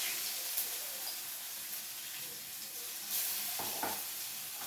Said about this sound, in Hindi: फिर डाल देती हूँ मैं अजवाइन, डाल देती हूँ जीरा, फिर डाल देती हूँ फैमिली लहसुन का अदरक का पेस्ट